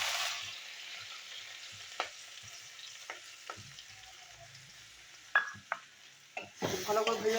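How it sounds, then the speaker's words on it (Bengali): Chopped onion and green chilli frying in a pan with soft sizzle, with a few sharp scrapes and knocks of stirring scattered through and a busier burst of stirring at the end. "ভালো করে ভেজে নেবো।"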